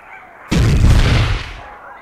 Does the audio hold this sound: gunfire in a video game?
yes